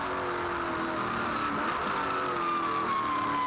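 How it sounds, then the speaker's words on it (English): NZV8 race car engine at Manfeild circuit, a sustained high-revving whine with a falling pitch sweep toward the end, heard as a steady drone with no talk. "This car is particularly noisy as well. We can hear that from the in-car footage."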